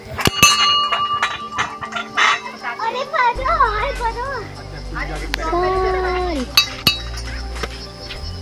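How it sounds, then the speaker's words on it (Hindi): Many hanging bells along a temple path in Lansdowne, Uttarakhand, ring in bright scattered clinks and chimes, near and fairly loud, while children's voices chatter and call out over them. "देखिए सारी घंटियाँ हैं।"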